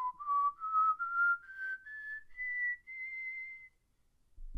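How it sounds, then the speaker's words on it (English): A person whistles close to a Blue Snowball microphone with a 10 dB pad engaged, a clean series of short notes stepping upward in pitch, then one held tone ending with a soft bump. "here's what whistling sounds like"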